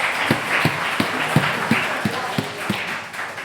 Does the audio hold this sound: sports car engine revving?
no